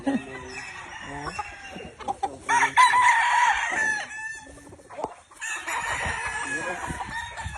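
Chickens cluck and roosters crow at a game farm in Tabogon, Cebu, with several loud, close crows rising over busy clucking and scattered background noise.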